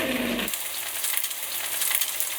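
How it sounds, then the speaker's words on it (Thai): Gimmari, Korean seaweed rolls, fry in hot oil for a second round, with a dense, steady sizzle and crackle after a brief low rumble at the start, close and loud, with no voices. "ให้เขามีความแบบทอดสีสวยๆเราก็จะทอดอีกหนึ่งรอบนะคะ"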